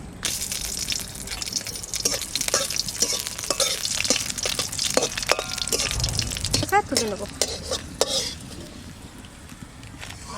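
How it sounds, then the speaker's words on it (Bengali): Dried red chillies frying in oil in a kadai, crackling and sizzling up close with stirring clinks, while someone talks over the cooking. "কড়াইতে তেল দিয়ে দিচ্ছি"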